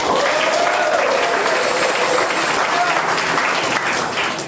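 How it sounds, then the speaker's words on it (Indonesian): A church congregation at a young adults' worship service claps together in sustained, dense applause, with voices mixed through the crowd noise. "Tepuk tangan buat Tuhan."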